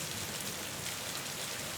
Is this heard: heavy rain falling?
yes